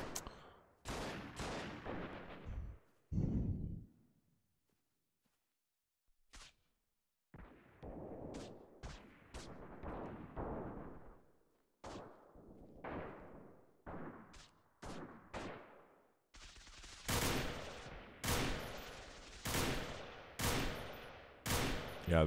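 Gunfire in the Freeman: Guerrilla Warfare video game during a large battle of more than 450 troops comes as loud repeated shots and rapid bursts, close and sharp, with brief pauses between volleys.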